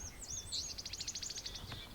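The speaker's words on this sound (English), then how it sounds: "I think I heard a black and white warbler." A high, thin black-and-white warbler song of rapid repeated squeaky notes, a steady series lasting about a second and a half, moderately close over quiet outdoor background.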